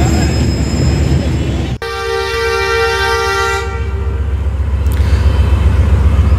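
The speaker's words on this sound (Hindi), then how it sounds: "departure of Tezgam from Okara railway station" The Tezgam passenger train departs Okara railway station in Pakistan on a very humid day. A loud sustained horn blast rings out over the heavy rumble of the train and the station ambience.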